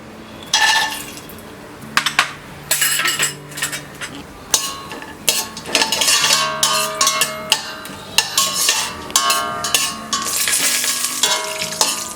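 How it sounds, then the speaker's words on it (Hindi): Cashews fry in ghee in a pan, giving a steady soft sizzle broken by frequent stirring scrapes and metallic clinks of a spoon against the pan, close and fairly loud with no talking. "काजू को हम फ्राई कर लेंगे"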